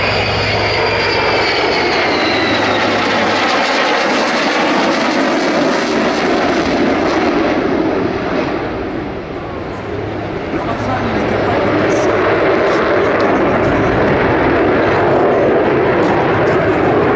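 A Dassault Rafale jet fighter roars overhead at an air show, a loud, sustained broadband rumble that swells and recedes over the whole stretch, with a voice commentating over it.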